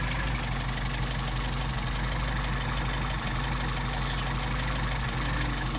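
A Mercedes 190SL engine with Solex carburetors idles steadily in cold weather while its idle mixture screw is adjusted, a continuous low rumble with even pulsing that holds at one level throughout.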